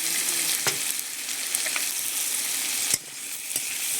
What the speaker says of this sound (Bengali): লবণ হলুদটাকে বেশ সুন্দর করে আলুর সঙ্গে কষে নিচ্ছি।